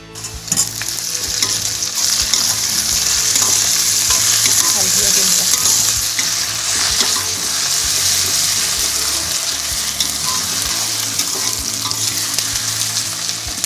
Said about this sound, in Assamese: অলপ ভালকৈ ভাজিবলৈ দিম ৰঙচুৱা হোৱালৈকে